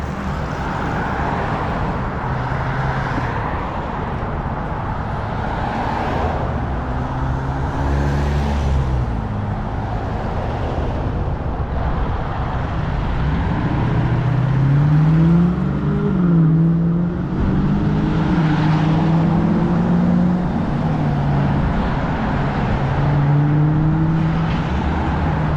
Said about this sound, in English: look at all the cars.